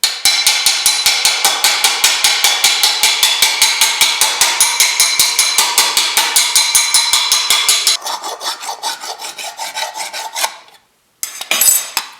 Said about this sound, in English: I'm going to mostly be doing hammer on in the low spots